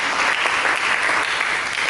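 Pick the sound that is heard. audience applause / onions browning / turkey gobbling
audience applause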